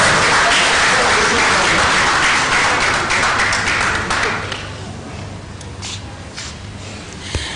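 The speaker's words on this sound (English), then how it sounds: "You deserve a round of applause." A crowd at a gathering of coordinators and attendees bursts into sustained applause, a loud, dense clatter of hands that thins out midway and leaves scattered claps.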